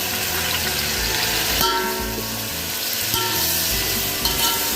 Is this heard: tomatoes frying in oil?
yes